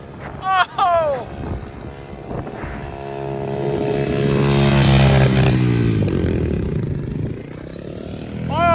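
A pit bike engine revs hard, its pitch sweeping up and down in strong harmonic bands over wind noise, with short shouts from people nearby.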